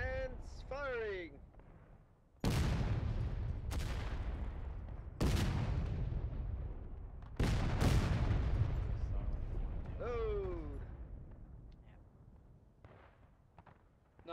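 Artillery battery cannons firing in the Civil War game War of Rights at Cold Harbor: four loud, sharp booms spaced a few seconds apart, each with a long rumbling decay, with voices talking between and over the shots.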